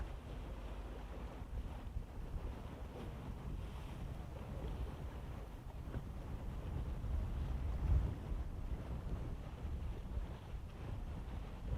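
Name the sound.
strong wind gust blowing on the microphone outdoors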